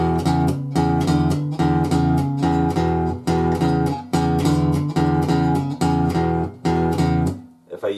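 A bass rhythm on guitar, played unmuted: a loud, ringing boogie shuffle pattern of repeating low notes and chords in a steady rhythm, sustained tones bleeding into each other, played solo.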